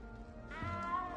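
A small cat in the Hogwarts Legacy game gives a meow with a drawn-out tonal rise partway through, close and fairly quiet over a low background hum.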